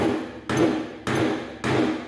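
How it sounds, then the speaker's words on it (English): Four evenly spaced, sharp hammer blows crimp a metal sleeve onto a snare cable, each strike ringing briefly before the next. "We're going to take our hammer. We're going to match it on."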